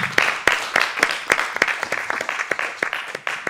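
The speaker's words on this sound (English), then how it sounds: "That deserves a round of applause." A small audience clapping in applause, a run of sharp, irregular hand claps, fairly close and steady throughout.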